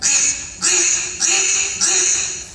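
Four evenly spaced nasal quacks from a duck call imitating a mallard hen, loud and close, each fading before the next.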